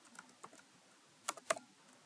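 Keystrokes from typing code on a computer keyboard: a few sparse, close taps, then a quick cluster of two or three sharper clicks, with nothing else around them.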